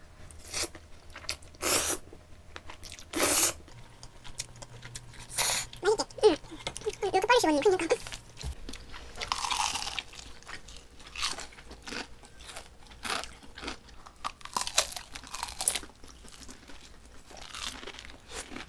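Close-up crunching and chewing of crispy fried food, bursts of crisp bites between quieter pauses, with a brief voice at times.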